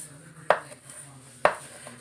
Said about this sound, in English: Now back to this cilantro. All I'm doing is coarsely chopping it.